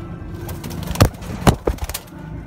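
Chuhay kabootar, Sialkoti pigeons kept for breeding, give a few soft low coos and wing or body shuffles close by, with short separated bursts over a steady low background hum.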